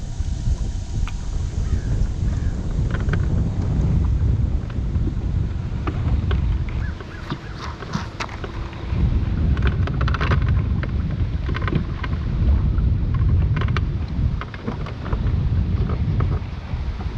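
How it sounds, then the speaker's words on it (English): Wind gusts steadily across the mic outdoors on Lake Guntersville during bass fishing, a constant roaring rush with slight swells and no voices. "Where's all this wind coming from?"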